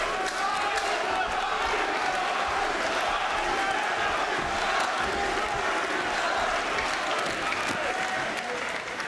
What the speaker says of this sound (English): The crowd supporting their own here, and that's the end of round one.